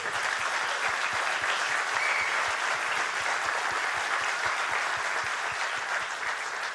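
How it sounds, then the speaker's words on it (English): A roomful of people applauding at an agtech accelerator launch and pitch night, with steady, sustained clapping and a few louder individual claps standing out. "really deserve a round of applause"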